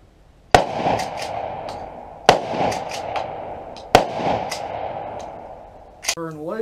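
Three loud, sharp shotgun blasts from a Mossberg 500 Compact Cruiser ring out, evenly spaced about two seconds apart, each trailing off in a short echo, with a brief voice at the very end.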